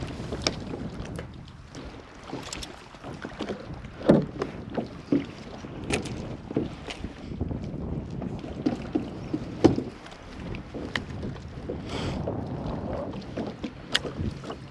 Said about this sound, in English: I'm using my pedal drive to kind of keep me in the same spot